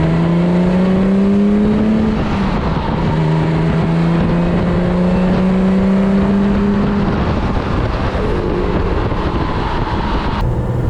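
1980 BMW M1 sports car on a test drive, its engine droning loudly and continuously with rising pitch sweeps as it accelerates through the gears, heard from close by with no talk.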